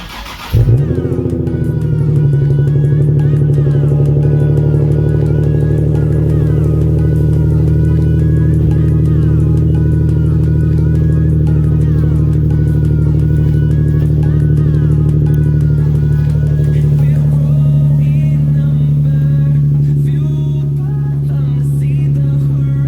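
A Nissan 370Z fitted with a Top Speed Pro 1 axle-back exhaust fires up with a sharp crank and burst, then settles into a loud, steady, droning idle that runs unbroken for about twenty seconds.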